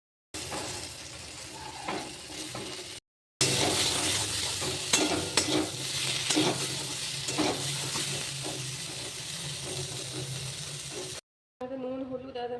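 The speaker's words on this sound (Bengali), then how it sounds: "দিয়ে এই যে সিদ্ধ করে একটা ফুলকপিটা ভেজে নেব।" Boiled cauliflower fries in oil with salt, turmeric and chili powder, giving a steady close sizzle with stirring that stops briefly twice, followed by a short stretch of tonal music.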